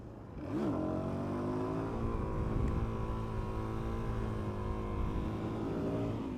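A 2017 Suzuki DRZ400SM motorcycle engine revs hard in third gear during a wheelie on a rough road, a loud, steady single-cylinder roar that climbs and holds close by for several seconds.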